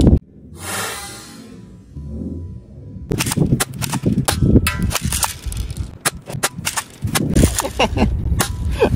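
Cheap toy Koga M4 submachine gun airsoft firing, starting with a brief hiss and then dense bursts of sharp cracking shots in quick irregular runs, loud and close, with no talk.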